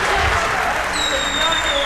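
An audience in parliament claps in dense, sustained applause that fills the space, with voices mixed into the noise and a thin whistling tone rising briefly above it.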